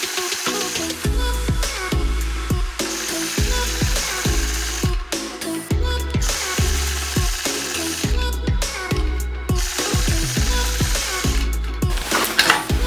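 A quilting machine stitches pointed hearts along a ruler, a loud steady mechanical whir with repeated rhythmic pulses and short stops as the ruler is repositioned.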